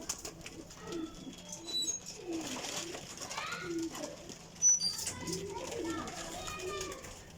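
A Teddy golden pigeon gives soft, low coos in a loft, partly buried under someone talking and children's voices nearby.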